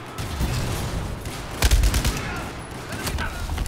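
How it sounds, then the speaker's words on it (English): Dense, loud gunfire from the Battlefield 4 single-player campaign, with sustained rattling bursts and a heavier boom in the middle. "Bad people shooting me."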